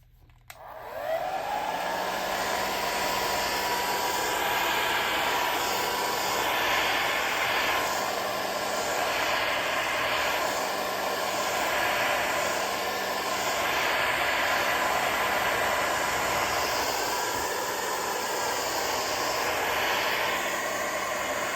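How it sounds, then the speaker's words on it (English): A hair dryer drying a landscape painting switches on and runs with a loud, steady whir for the whole stretch, its pitch wavering slightly, with no talking. "you guys are going to hear the dryer going some"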